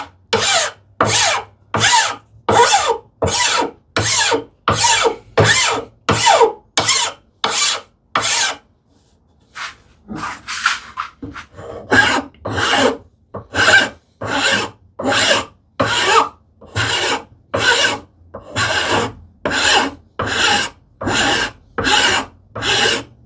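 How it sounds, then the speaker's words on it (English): A flat file rasping across wooden end grain, steady back-and-forth strokes repeated in an even rhythm, close and loud, with a short pause midway. "This is a flat file which works amazingly well for end grain"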